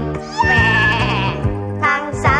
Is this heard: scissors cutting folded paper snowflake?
no